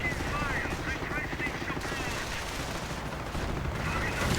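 Tank cannons and small-arms fire crackle in a Company of Heroes battle aimed at an anti-tank gun, a dense continuous barrage of shots and bursts over a busy combat background, moderately loud.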